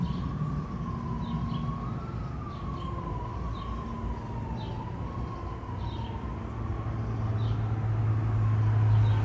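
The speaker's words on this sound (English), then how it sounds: "Those sirens are throwing me off. I don't know what kind of sirens those are." An emergency vehicle siren wails steadily on a gloomy Boston city street, rising and falling at middle distance over a constant traffic rumble, with a low engine drone building near the end.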